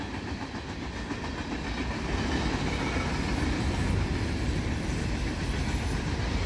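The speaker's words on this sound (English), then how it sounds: "pretty big train." A large train rumbles past close by, a steady heavy roar with faint rhythmic clacking of wheels that grows slightly louder midway.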